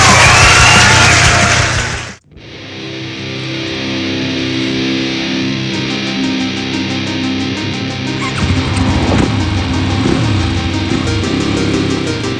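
KTM 500 EXC Six Days Edition dirt bike ridden on trails near Cayucos, California; a loud, steady single-cylinder engine drone fills the clip after a brief cutoff near the start, with rising and falling revs toward the end.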